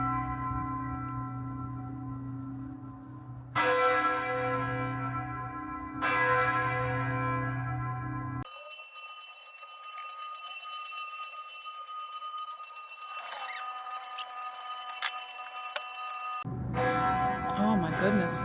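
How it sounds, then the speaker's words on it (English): Church bells ring in long, resonant peals with sustained overlapping tones, restarting in fresh strikes several times, then a different higher set of bells chimes steadily before the deeper peal returns. "That was almost 4 minutes worth of bells."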